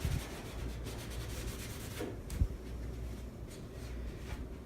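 Steady close rubbing of a cloth working chalk paint into the corners of painted furniture, a continuous soft scrubbing texture with one brief knock midway and no talking.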